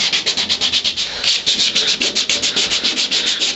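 A wire wheel scrubs surface rust off the floorpan of a 1962 Ford Falcon, a close, bright abrasive rasp that pulses in quick rapid strokes with no pauses.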